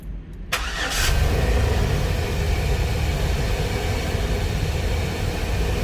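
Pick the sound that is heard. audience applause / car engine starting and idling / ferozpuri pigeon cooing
car engine starting and idling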